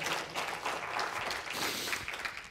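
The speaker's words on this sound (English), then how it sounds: "Let's give him and Jana and Kenneth a round of applause for preparing the meal for us" A church congregation claps for the cooks who prepared a meal for everyone, a steady, dense round of applause filling the room throughout, with no one speaking.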